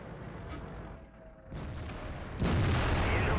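A tank cannon fires in World of Tanks during a battle between a WZ-111 Model 1-4 and a T-34. A low engine rumble gives way to one sudden loud blast whose roar carries to the end.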